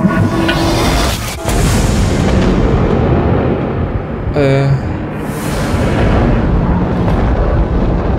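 A large space station, the Sevastopol in Alien: Isolation, explodes in deep rumbling booms that fill the whole stretch, with a sharper blast partway through; a man murmurs briefly under it.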